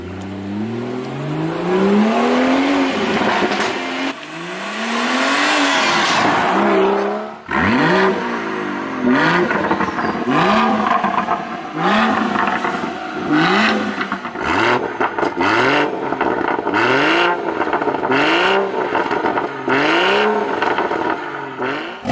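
A BMW 440i with the M Performance power and sound kit revs hard again and again, each blip rising and falling in pitch with a snarling exhaust note and crackles, loud and close throughout.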